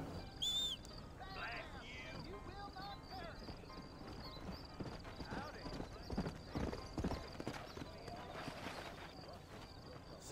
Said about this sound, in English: Trying to call for my horse